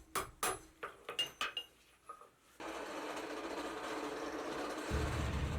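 A hammer striking a bar on a stake anvil during blacksmith forging, several sharp metallic blows in an uneven rhythm, followed by a steady louder roar of background noise.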